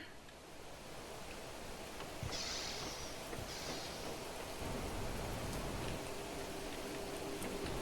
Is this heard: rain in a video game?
yes